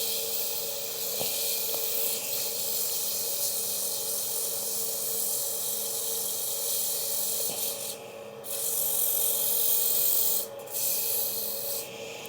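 Hand sanding a wooden wig stand to smooth out marks, heard as a steady, close abrasive rubbing that runs continuously, with a couple of brief louder scuffs near the end.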